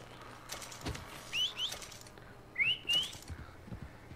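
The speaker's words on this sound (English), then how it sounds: "Whistle my horse over here." Someone in Red Dead Redemption 2 whistles to call a horse: two short pairs of rising whistles, fairly faint and close, over quiet outdoor game ambience with no talk.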